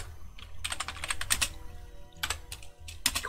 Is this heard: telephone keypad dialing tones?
no